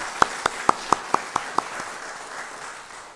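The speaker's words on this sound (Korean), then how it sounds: "한번 일어나 주시면 저희가 박수로 환영하고" At a Korean church Sunday service, applause welcomes visiting guests: about seven loud, evenly spaced claps stand out near the front, then softer scattered clapping fades away.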